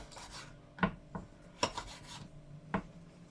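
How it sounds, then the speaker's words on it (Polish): A knife cuts a vanilla pod into small pieces, giving several separate sharp rasping strokes, close and quiet, spaced irregularly with pauses between them. "Laskę wanilii rozkrajam, tnę na takie mniejsze kawałeczki"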